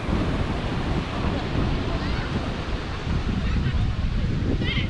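Ocean waves rolling onto a beach where children play in the surf, a loud continuous wash of breaking water mixed with heavy wind buffeting against the microphone.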